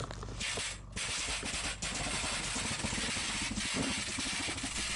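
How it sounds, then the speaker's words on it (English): Trenchless pipe-bursting tool splitting an old galvanized water line: a continuous, loud, rough chattering and grinding drone that lasts about five seconds, with a few brief dips in level. "that kind of like a jerking, chattering noise is when it splits a little galvanized"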